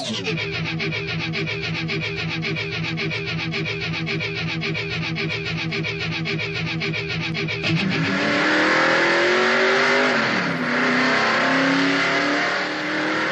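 A 1978 Monte Carlo stock race car's V8 engine runs loud and steady with a rough pulsing idle, then revs up and accelerates hard down pit road, its pitch climbing and dipping as it shifts.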